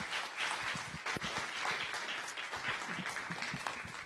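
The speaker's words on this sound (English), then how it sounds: "How about a nice round of applause for Dr." Sustained audience applause after a guest speaker, an HIV cure researcher, is introduced at a science cafe talk; dense steady clapping fills the room for the whole stretch with no talking.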